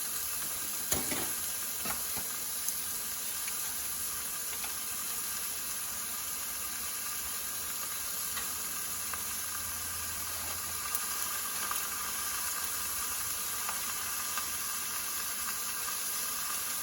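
Onions and garlic sautéing in a pan for a quick weeknight pasta, a constant soft sizzle and hiss with faint occasional stirring clicks, no talk.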